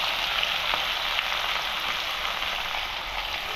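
Chopped onions sizzle in hot oil already seasoned with cumin seeds, a dense, steady frying hiss with faint crackles, close and continuous with no talk, while preparing broad beans tomato curry.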